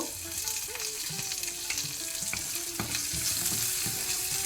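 Cashews, pepper, ginger and curry leaves crackle steadily in ghee for ghee poha, a close, even sizzle broken by light stirring knocks, with no voices.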